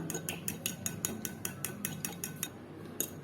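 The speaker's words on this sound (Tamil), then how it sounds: "அதை ஒரு ஃபோர்க் வச்சு நம்ம கலந்து விட்டுக்கலாம்" A fork whisks two spoons of curd in a bowl, tapping the sides in a quick, steady run of about a dozen light metallic clicks, close and alone.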